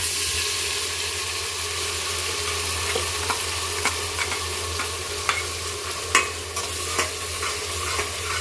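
A spice paste for mint pulao fries in a pan, giving a dense, steady sizzle with scattered spatter pops and occasional scrapes of a stirring spoon, close and continuous with no talk.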